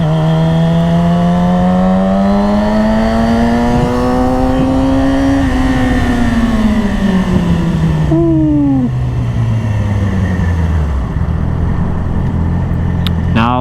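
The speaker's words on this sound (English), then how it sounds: "Now it's a long highway ride back home, baby." Yamaha R6 sport bike cruising on a highway, its engine note climbing steadily through a gear then falling away as it upshifts, loud and close over constant wind roar.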